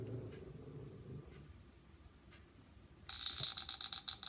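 Sound-activated toy bird decorated with a small blue flower bursts into loud, close, repeated chirping tweets after a stretch of quiet low room rumble, the bright trills pulsing in quick rhythmic bursts until the end.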